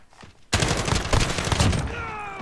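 Pistol gunfire in Modern Warfare, a sudden loud burst of rapid, closely spaced shots lasting over a second, close and sharp, trailing off into a ringing tone.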